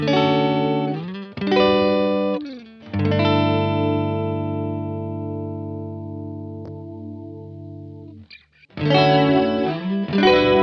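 Clean electric guitar chords strummed with shimmering modulation from an Old Blood Noise Endeavors Screen Violence pedal, one chord left ringing and sustaining for several seconds before more strums.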